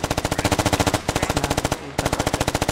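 Automatic weapon fire in the video game Squad rattles out in rapid, evenly spaced bursts, loud and close, with a brief pause splitting the stream of shots.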